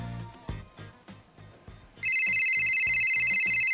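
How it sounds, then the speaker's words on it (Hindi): An electronic telephone ringtone starts partway through and trills loudly and continuously after a few soft background knocks in a home setting. "और ये फोन बज रहा है।"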